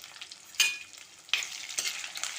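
Curry leaves hit a pan of frying brinjals and pop loudly, then the sizzle continues as a spoon stirs and scrapes through the vegetables. The sound is close, with two sharp bursts of crackling.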